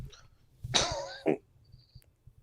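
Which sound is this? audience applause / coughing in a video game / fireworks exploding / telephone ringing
coughing in a video game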